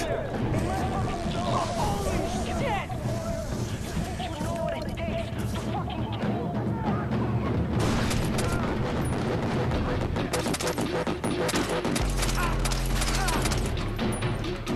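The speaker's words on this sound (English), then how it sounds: "I am shooting him in the head like you would not believe" Gunfire in the video game Far Cry 3 while shooting an enemy, dense loud bursts and rapid shots layered over constant game noise, with a heavy boom near the end.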